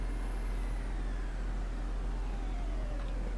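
Idling diesel engine of a MAN NG 312 articulated city bus in the OMSI bus simulator, a steady low rumble held at constant loudness with faint whining tones drifting across it, no talk.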